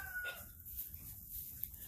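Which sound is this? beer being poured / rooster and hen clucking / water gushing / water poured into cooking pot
rooster and hen clucking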